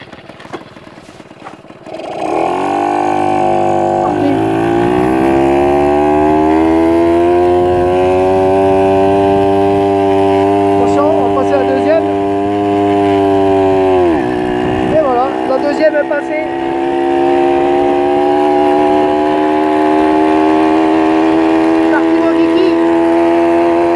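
A Yamaha Chappy 50 moped kicks into life after a short, quieter stretch, then idles and runs with a steady, close, buzzing two-stroke drone. The pitch dips briefly midway, then settles back into a continuous loud hum to the end.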